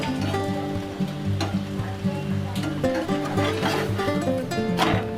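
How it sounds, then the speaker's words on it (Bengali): A milk paratha fries in a little oil in a pan, giving a steady, close crackling sizzle with small pops throughout, while a faint background hum runs under it. "আমার সামান্য তেল দিয়ে এপিঠ ওপিঠ করে ভাজা ভাজা হয়ে যাচ্ছে"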